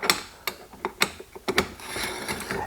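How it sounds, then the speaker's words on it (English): A wrench tightening the suppressor end cap on a Gemtech Integra 5.56 integrally suppressed AR-15 upper, a close series of sharp metallic clicks and ratcheting ticks at an uneven pace, with no speech. "You can finger tighten it, and then put your wrench in the end cap"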